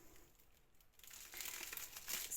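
A plastic bubble wrap sleeve holding a diamond painting kit crinkles and crackles as it is handled and cut open, quiet at first, then louder and denser rustling toward the end.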